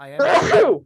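A single short sneeze bursts out close up during a podcast conversation, sharp and loud, with a brief spoken word around it.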